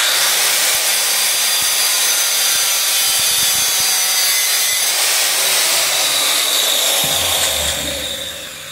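A hand saw cuts into a PVC elbow fitting, a steady rasping back-and-forth stroke heard up close and loud for several seconds, tapering off at the end.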